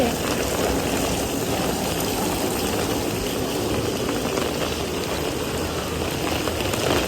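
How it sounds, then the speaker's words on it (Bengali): Heavy rain pouring down on a rainy day, a loud dense continuous hiss and patter close by, unbroken throughout with no talk. "বৃষ্টির সাংঘাতিক আওয়াজ হচ্ছে"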